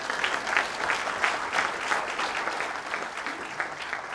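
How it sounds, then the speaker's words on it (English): An audience at a screen-printing conference applauds, a dense, steady wash of many hands clapping that holds at an even level from start to finish. "So could you put a round of applause too for everybody's sponsors?"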